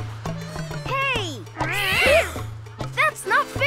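Several cats meow in rising and falling cries, one drawn-out yowl in the middle, over a low background hum.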